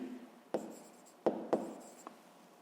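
Pen strokes on paper, a few separate scratchy marks written by hand in a quiet room, close and fairly soft, with one short pause between bursts.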